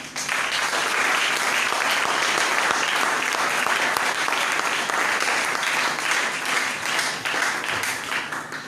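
Worshippers at a church service break into steady, vigorous applause, a thick and even roar of many hands clapping at close range that holds for the whole stretch.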